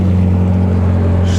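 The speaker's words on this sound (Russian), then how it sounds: "Блин, лодка это круто." Steady motorboat engine drone on open water, a continuous low hum with strong tonal rumble, close and even throughout.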